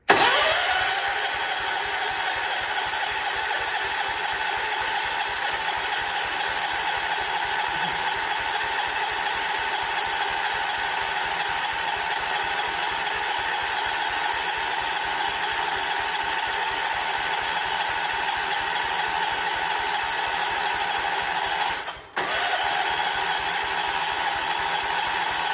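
A 1979 John Deere 214 lawn tractor that had sat unused for months cranks and catches, then its small engine idles with a steady, even chugging for the whole stretch, with a brief dip and stumble near the end.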